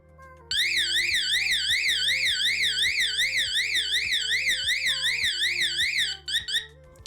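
A TECHNAXX PRO TX 168 motion-sensing car alarm blares a loud, rapidly warbling siren tone for about six seconds, cycling steadily up and down before stopping abruptly, with faint background sounds underneath.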